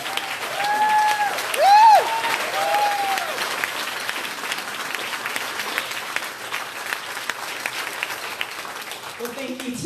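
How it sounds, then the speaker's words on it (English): Sustained applause from an evening Republican club meeting audience in Arlington, Texas, steady dense clapping filling the room, with whoops or whistles rising early on and the clapping thinning toward the end. "please give her a big round of applause"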